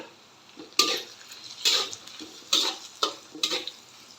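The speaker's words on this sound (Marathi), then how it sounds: "आपण जे लसण आद्र खोबरं मिक्स करून घेतलं होतं बारीक करून ते घालायचं ते पण छान असं लालस होईपर्यंत परतून घ्यायचं" A ground paste of garlic, ginger and coconut sautés in a pan for khichdi, a soft sizzle punctuated by about five crisp stirring scrapes of a spatula, close and fairly quiet with no talking.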